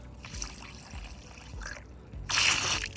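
Liquid pours into a container, filling it to the brim while building a homemade pellet basket; a soft trickle and gurgle with brief squishy pauses, swelling into a fuller, louder pour near the end.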